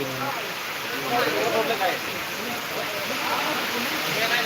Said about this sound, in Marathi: पाऊस अजून चालूच आहे काय पाऊस चालूच आहे